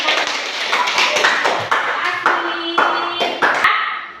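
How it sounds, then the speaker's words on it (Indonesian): A group claps together in a steady rhythm, with voices calling out over the sharp, repeated claps. "Ya, tepuk tangan untuk semuanya."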